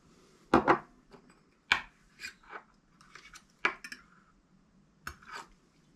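Varnish being mixed in a container, with a run of clinks and knocks from a stirrer or tin at irregular intervals, fairly close and moderately quiet.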